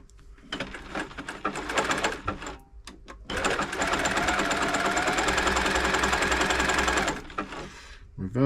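An Elna Club Computer 500 sewing machine stitching a zigzag: a few short bursts of rapid mechanical clatter, then a steady run of about four seconds, close and loud, with brief gaps between bursts.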